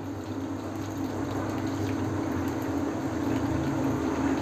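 Water pours steadily off the top of a pot of soaking clams, leaving sand behind, in a continuous stream, a sustained splashing, gushing sound with no gaps, close by.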